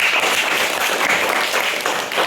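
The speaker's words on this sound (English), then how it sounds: "Clap for it." A fourth-grade maths class at a bilingual school claps together after a correct answer, a dense, steady patter of many small hands sustained throughout at even loudness.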